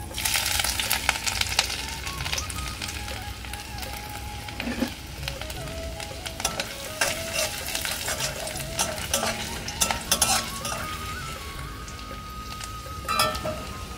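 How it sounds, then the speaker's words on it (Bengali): Ginger and garlic fry in hot oil with bay leaf and five-spice seeds, giving a steady sizzle mixed with stirring and the scrape of a utensil against the pan, at close range without talk. "আদা রসুন খুব সুন্দর করে ভেজে নিয়েছি"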